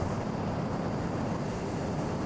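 A Boeing 747 airliner taking off in a flight simulator game, a steady, dense roar of jet engines and rushing air at constant loudness throughout, with no voices.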